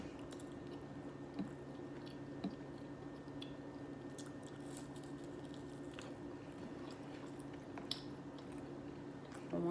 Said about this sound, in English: I want to see if I can eat all of these.